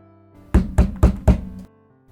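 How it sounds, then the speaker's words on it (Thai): Four soft, evenly spaced knocks land on a bedroom door, close and distinct, with quiet pauses before and after. "ผมเคาะประตูห้องของเธอเบาๆแต่ทำยังไงเธอก็ไม่ยอมมาเปิด"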